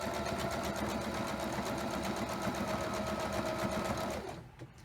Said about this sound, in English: I'm only going to sew half of that edge.